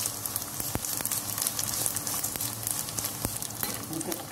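Chicken pieces fry in a pan with a dense, steady sizzle, broken by several sharp scrapes and clacks as they are stirred and turned, close and fairly loud with no talking.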